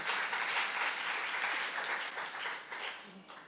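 A church congregation at a youth-group worship service bursts into sustained applause during a sermon. The clapping is dense and steady, swelling slightly and then easing without stopping, with no speech over it.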